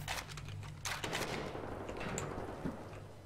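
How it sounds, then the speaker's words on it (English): Rapid gunfire in the shooter Wolfenstein The New Order, with bursts of crackling shots over a steady low game rumble, fairly loud and continuous with no talk. "I can't even see where they're shooting me from."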